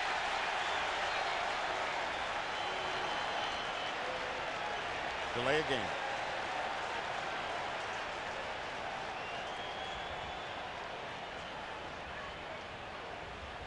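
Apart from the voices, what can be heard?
football stadium crowd roaring at Buffalo Bills game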